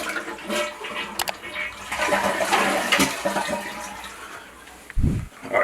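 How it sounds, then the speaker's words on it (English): A Kohler toilet being flushed during a flush seal repair with the overflow fill tube removed, a close rushing, gurgling swirl of water that builds and drains, ending with a low whooshing gulp. "We're going to go ahead and flush it."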